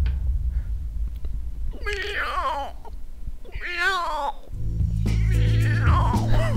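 A cat in the video game Minecraft gives three distinct, close meows spaced a couple of seconds apart over a low background hum.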